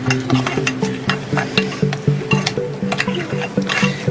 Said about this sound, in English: You're going to stir this quickly and blend it well.